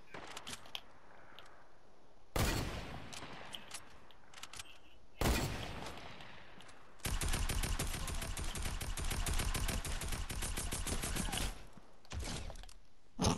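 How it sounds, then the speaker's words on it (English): Gunfire from guns in a video game, with two sharp single bursts followed by a long sustained stretch of rapid automatic fire, then a few trailing shots, fairly close. "My bullets are delayed by like 6 seconds. So it takes 6 seconds to fire."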